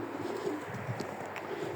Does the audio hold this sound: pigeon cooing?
yes